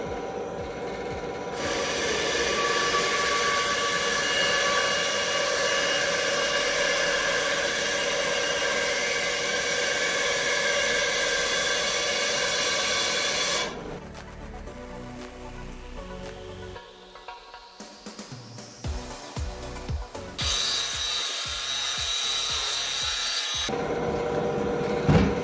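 A Ryobi band saw cuts through 3.5 inch cedar with a steady, loud rasping whine that runs for most of the clip. The cut breaks off into quieter knocks and handling sounds, then the saw runs again briefly near the end.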